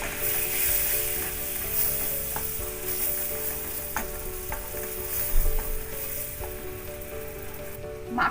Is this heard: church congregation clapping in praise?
no